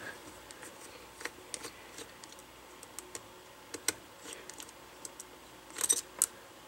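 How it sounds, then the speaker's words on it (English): Small screws being unscrewed from the metal mounting brackets on the back of an ASUS A55A laptop screen assembly, heard as faint, scattered clicks and scrapes at close range against a quiet background. "we remove the two screws on top that are holding the metal mounting brackets to the back of the screen assembly"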